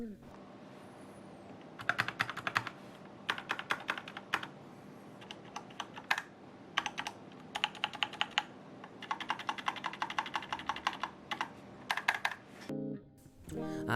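Bursts of crisp mechanical keyboard typing on a DAREU EK871, rapid clacky keystrokes and stabilizer sound with a few pauses between runs, close and clear.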